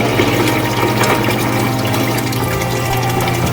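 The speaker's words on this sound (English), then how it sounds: "It is draining down." Water drains steadily out of a bench sump with a constant rushing, pump-like hum that stays even and close for the whole stretch, with no voices.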